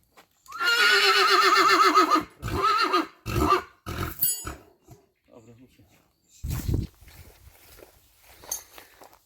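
A mare lets out a long, loud, quavering whinny, followed by snorts, shuffling movement and a few low hoof knocks.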